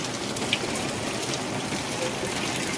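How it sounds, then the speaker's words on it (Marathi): Heavy first monsoon rain pours steadily, a dense, loud hiss of rain on surfaces that stays even throughout with no talk. "पाऊस बघा पाऊस पाऊस दाखवा अजून खतरनाक पाऊस"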